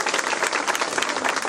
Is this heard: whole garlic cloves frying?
no